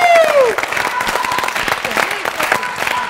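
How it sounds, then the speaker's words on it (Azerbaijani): An audience applauds during a televised game show round, with steady, dense clapping for about three seconds and a voice and some tonal sound briefly over the start. "Alqışları xahiş edirik."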